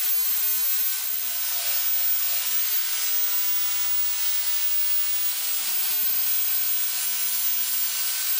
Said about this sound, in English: A little tip about sanding this.